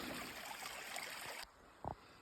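A small creek flows through a boreal forest valley, a steady close trickle and gurgle of water that fills the first part, then drops to a quieter babble with a short splash-like burst near the end.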